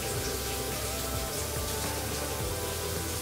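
Whirlpool laundry center washer draining and spinning after a repair, a steady broadband rush of water and motor noise running continuously at moderate level with no talk.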